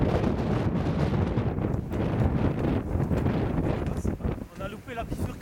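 Strong wind buffets the microphone continuously during a snowy winter snowshoe hike in the mountains near a pond, with light snowfall; broadband roaring gusts fill the whole stretch, with a voice speaking faintly near the end.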